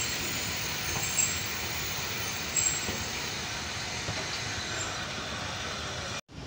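Train departing Bahawalpur railway station, a steady rumbling roll of wheels on track with faint clicks and a hiss, continuous and fairly close, heard alone without talk until a brief cutoff near the end.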